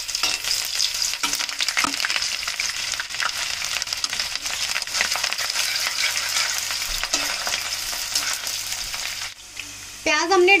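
Onion added to sautéed masala in a pan while making chicken korma: a loud, continuous close sizzle with scraping stirs throughout, and a brief voice near the end.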